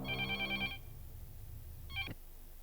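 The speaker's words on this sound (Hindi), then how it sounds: "सागर साहब का फोन है।" Telephone ringing indoors: one long electronic ring burst followed by a shorter second ring after a pause, moderately faint against a quiet room hum, with no voices.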